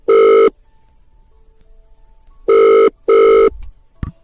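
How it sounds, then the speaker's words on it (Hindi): A telephone rings in three loud, clear electronic bursts, one early and then two close together near the end, with a short clatter after the last ring. "फोन उठिए"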